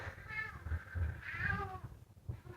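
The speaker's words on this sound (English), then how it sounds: "my cat would like to join the video." A house cat meows several times in a row, close and fairly clear, with short drawn-out cries and brief pauses between them and no one talking.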